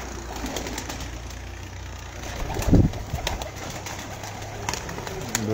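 Soft pigeon cooing outdoors from a keeper's collection of fancy pigeons in Pakistan, over a steady background hum, with a brief louder thump or flutter near the middle.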